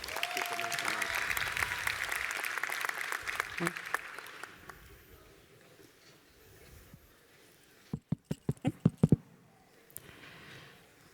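Audience applause at a trade union congress, a steady round of clapping that fades away, followed later by a short burst of a few loud separate claps, with a voice speaking over the start.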